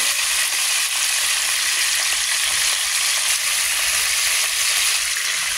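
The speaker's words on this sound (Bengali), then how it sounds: "তো মুরগির মাংস ভাজা হয়ে গেছে" Eight pieces of chicken from one large bird fry in hot oil, giving a loud, continuous close-up sizzle with no talk over it.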